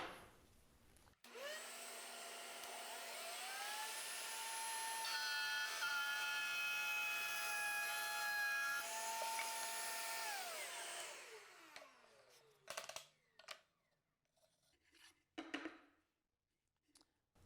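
A wood router cuts a groove in a board fed with a push pad and push stick, whining loudly and steadily for about ten seconds before spinning down, followed by a few sharp knocks and clatters.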